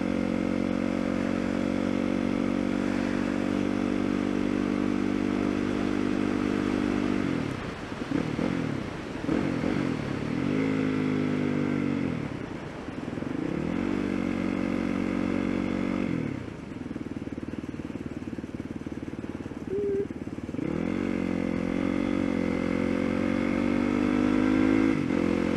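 A motorcycle is ridden on an open road, its engine droning loudly and continuously throughout with several dips and rises as gears shift and the throttle rolls on and off, alone without talk.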